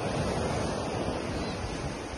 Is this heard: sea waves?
yes